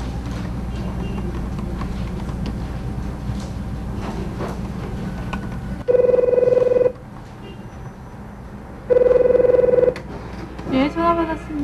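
A telephone ringing indoors in two loud, steady electronic bursts about three seconds apart, cutting through a low background hum, followed by a faint rustle as the call is answered.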